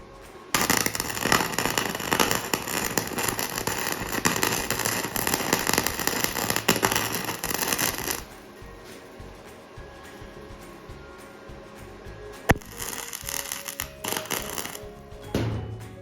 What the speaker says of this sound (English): we can just weld onto the clean surface and put that damaged spot down on the hoe